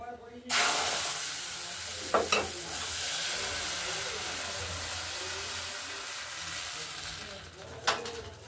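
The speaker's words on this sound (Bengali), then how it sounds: "এইভাবে প্রত্যেক ব্যাটারটাই একটা একটা করে পিঠে ভেজে নিতে হবে।" Rice flour batter pitha frying in a pan gives a steady, close hiss of sizzling oil that starts abruptly and runs throughout, with a couple of brief sharper crackles along the way.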